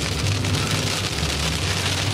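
Rain starts to fall during a thunderstorm on Route 66 near Sedona, a loud, dense, even hiss of drops hitting the ground with a low rumble underneath, steady for the whole stretch.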